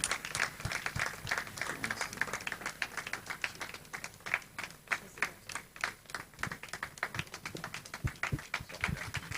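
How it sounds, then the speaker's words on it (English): An audience claps at the official launch of Ghana's Ministry of Education TV channel, welcoming the executive director onto stage; the applause is a faint, dense patter of hand claps throughout. "Let's receive him with a round of applause as he comes on stage."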